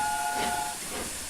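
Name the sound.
steam locomotive whistle from a video game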